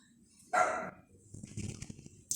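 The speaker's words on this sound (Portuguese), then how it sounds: "Minha cachorra tá latindo." A female dog barks once sharply and close at home, followed by softer rustling and small yips, with no talking.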